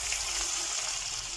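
Melted butter with red pepper flakes sizzles as it hits pumpkin soup, a steady close, even hiss of frying with no voices.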